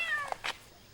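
A cat on Silido island, freshly caught for neutering and now being released, lets out a short meow and then a second brief cry, close and fairly clear, with no voices during it.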